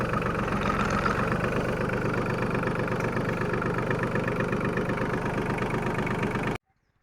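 A Farmtrac Atom 30 tractor engine idles steadily up close, a constant low rumbling throb that runs unbroken and then cuts off abruptly near the end.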